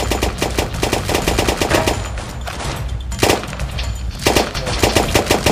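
Rapid automatic gunfire in the multiplayer shooter Special Forces Group 2, loud, continuous bursts of machine-gun shots with brief gaps, heard close.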